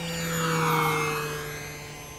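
An FMS Cessna 182 1500mm electric RC model airplane flies inverted overhead, its steady motor whine swelling and fading slightly as it passes at a moderate distance.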